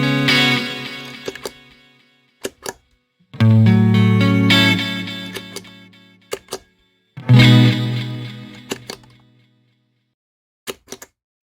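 An Eventide H90 delay pedal plays a sustained guitar chord three times, with each chord ringing on and fading into repeating delay trails after bypass, plus a few light clicks between.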